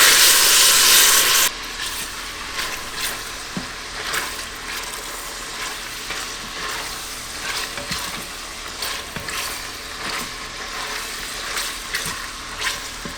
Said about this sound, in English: I want to render out some of that liquid there from the pork belly